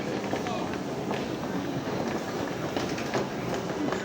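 Underground train stopped at a station in Rome while passengers step off, a steady rumbling station hum with faint rail clatter and footsteps, voices murmuring under it throughout.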